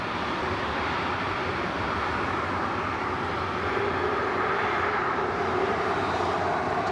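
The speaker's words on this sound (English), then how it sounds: "There's a Jet2." A Jet2 passenger jet passes at Leeds Bradford Airport, a loud, steady engine roar that holds evenly and swells slightly toward the end, with no talk over it.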